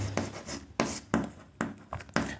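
Chalk or marker writes on a classroom board during a maths lesson, heard as a quick series of close scratchy strokes and taps, about six in just over two seconds.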